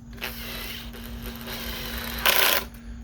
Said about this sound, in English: we're gonna grab the bigger T10 screws and we're gonna start screwing in